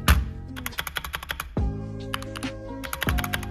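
A roughly $200 gaming keyboard clatters under fast typing, with sharp, close key clicks in quick irregular bursts and a few heavier thock-like strokes, and no voices.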